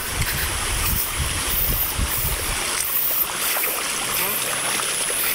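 A sudden roadside waterfall in Isabela gives a continuous rushing, splashing flow of water, heard close and steady with some rumbling underneath.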